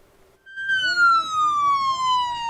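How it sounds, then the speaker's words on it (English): A police car siren wails loud and close in Iqaluit in the evening, a steady descending tone that starts abruptly and holds throughout. "The sound of sirens piercing the peace in Iqaluit yesterday evening."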